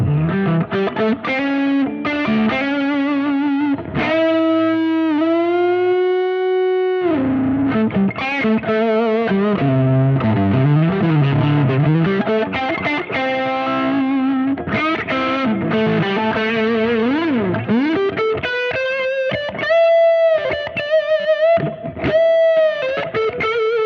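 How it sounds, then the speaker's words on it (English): A Les Paul electric guitar played through a Red Dwarf amp, distorted with chorus-like shimmer, sustained chords and melodic bends ringing loud and continuous for the whole stretch, no talking. "I just really want to hear you playing that guitar through the Red Dwarf."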